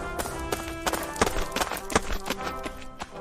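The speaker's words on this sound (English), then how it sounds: "What about just a man on a horse? A horse and rider would work." Horse hooves clip-clopping as a sound effect for a man riding a horse, a quick, uneven run of sharp close hoof knocks over about three seconds.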